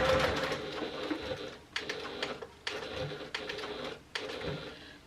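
Janome HD9 sewing machine stitching a bag lining: a fast, continuous mechanical whirring and clatter, loud and close, broken by a few short pauses as the stitching stops and restarts.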